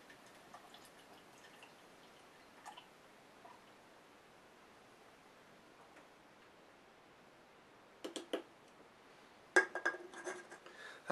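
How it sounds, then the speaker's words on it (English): A pale ale bottle is opened and poured into a glass in a quiet room: faint ticks and a couple of small clinks come first, then a cluster of sharp glassy clatters and a short pouring splash near the end. "So let's pop the cap on this one and get it in the glass"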